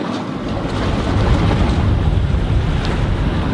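Strong wind and rushing ocean waves surround a sailboat far out on open water, a loud, steady roar that continues without a break and with no voices.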